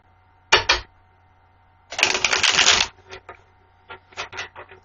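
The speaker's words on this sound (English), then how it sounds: "I'm going to shuffle one more time for Mr. Kabuto." A deck of tarot cards is shuffled by hand in three bursts of crisp riffling and flicking, close and dry, separated by brief pauses.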